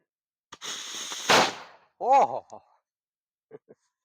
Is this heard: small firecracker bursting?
yes